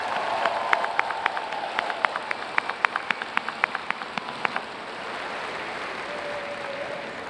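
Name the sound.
commencement audience applause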